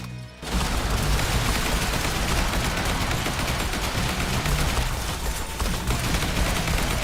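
Sustained turret gunfire in the zombie survival game Yet Another Zombie Survivors, a dense, loud fusillade of rapid shots that begins abruptly after a brief pause and pounds on without letup.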